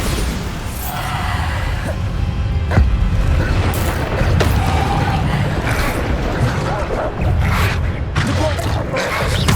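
Bombarda explosion spell in the video game Hogwarts Legacy, loud booming blasts and rumbling crashes mixed with other game effects, with voices calling out over the noise.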